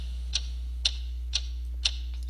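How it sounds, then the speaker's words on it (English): A regular clock-like ticking, four crisp evenly spaced clicks about half a second apart over a steady low hum, with no voices. "What is that mysterious ticking noise?"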